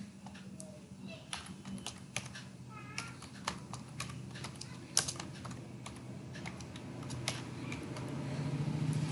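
Quick, irregular keystrokes on a computer keyboard while an online pay bill form is filled in, close and clear over a low fan hum.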